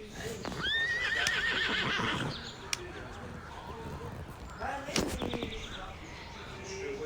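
Horses in the Star Stable Online video game neigh and whinny loudly, with a clear trill early on and another burst midway, amid clip-clop hoof sounds and game effects.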